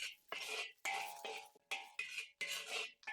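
Garlic cloves and dried chilies stir-fried in a little oil in a wok over low heat: close, repeated bursts of sizzling and spatula scraping in an uneven rhythm, with no talking.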